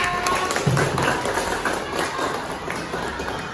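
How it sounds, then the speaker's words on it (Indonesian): Elementary students at SDN 6 Dauh Puri clap their hands together in a classroom, a steady, dense patter of many hands that stays fairly even. "tepuk tangan semuanya"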